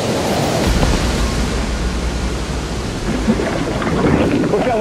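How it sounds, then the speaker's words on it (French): Big ocean waves break on the shore in a continuous loud, rumbling roar of surf with steady crashing and wash and no clear gaps. "Faut faire vraiment attention aux vagues ici parce qu'il y a vraiment des grosses déferlantes."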